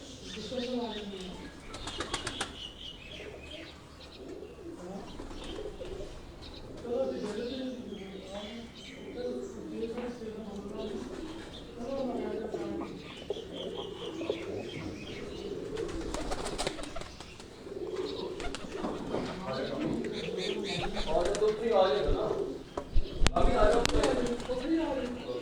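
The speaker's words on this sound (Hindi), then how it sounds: "सलारा कबूतर है जी" Salara pigeons held by a breeder coo in soft, rolling phrases over steady background noise, with occasional wing flaps and a voice speaking nearby.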